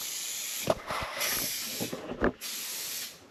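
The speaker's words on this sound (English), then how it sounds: "We're spraying the batting to put on the foam for the mattress piece" Spray adhesive hisses in broad bursts onto batting being prepared for mattress foam, several loud spurts with short gaps and a few nearby clicks and handling knocks between them.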